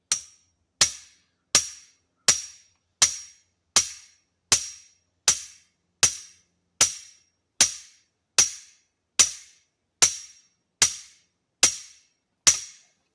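A steel well pipe is hammered into the ground for an off-grid homestead water well, sixteen sharp metallic bangs spaced evenly about a second apart, each ringing briefly and decaying, with no talk.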